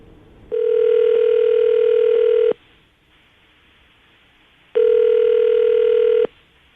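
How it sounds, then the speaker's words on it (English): Telephone dial tone played through a radio studio line, two steady tone bursts about two seconds each separated by a short gap while a call is being placed. "we're going to call her right now, see if we can get her on the phone"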